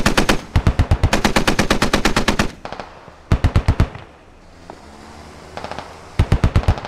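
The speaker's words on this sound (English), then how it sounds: "You just shoot at that thing." Rapid machine-gun bursts hammer out in a SquadOps battle, one long rhythmic string of loud close shots, then shorter bursts with quieter gaps and distant rumble before another fast volley, with no talk.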